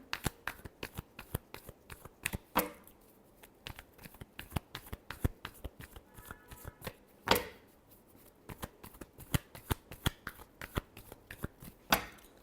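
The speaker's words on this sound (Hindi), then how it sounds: "Last shuffle." Close, crisp tarot cards shuffled by hand in a steady run of sharp papery flicks and taps, with a few louder slaps, continuing without talk.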